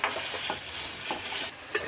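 Green chillies, ginger and garlic fry in a pan with a close, steady sizzle broken by a few quick stirring scrapes over a brief moment.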